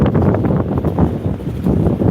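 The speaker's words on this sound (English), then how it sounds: "It's chilly and windy." Gusty wind buffets the microphone outdoors on a chilly day while a bike is being fixed, a steady low rumbling roar that swells and dips throughout with no talking.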